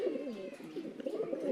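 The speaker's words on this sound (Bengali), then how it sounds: "এই নরটাও ওই মাদিটা দেখা দেখি ডাকতেছে" An adult male Damascene pigeon with kohl-ringed eyes coos in a low, rolling, throaty burble, close and continuous for a brief moment with no talk.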